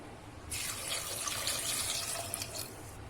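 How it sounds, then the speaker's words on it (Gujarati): After a brief pause, water pours in a steady, splashing stream into a metal pressure cooker, continuing close by until the end. "તેમાં આપણે બે કપ પાણી નાખીશું"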